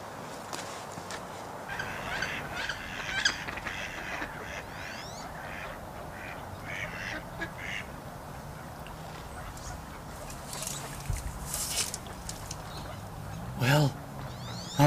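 Birds calling and chirping outdoors, with scattered bird notes and a louder squawk near the end over steady ambient park noise and faint voices.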